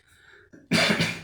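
A single loud, harsh cough from a speaker with a sore throat bursts out after a moment of quiet murmuring, close to the microphone.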